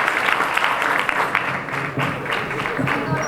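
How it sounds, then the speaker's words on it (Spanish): An audience at a Catholic youth catechesis session applauds, a steady wash of many hands clapping that stays loud and dense throughout, with some faint murmuring underneath. "Podéis aplaudir."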